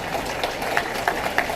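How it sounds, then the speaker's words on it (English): Applause from the audience at a junior livestock and homemakers show, a steady wash of many hands clapping at moderate volume with a few sharper individual claps standing out and no talk over it. "So if we could please give a round of applause to everybody"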